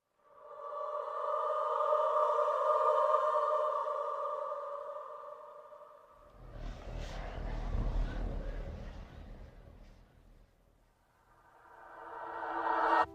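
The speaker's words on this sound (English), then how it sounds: "It's very eerie music" Eerie video game music from the dog pound level, a sustained droning tonal pad that holds steady, then gives way to a rumbling, noisy swell before a high shimmering tone returns, with no talking.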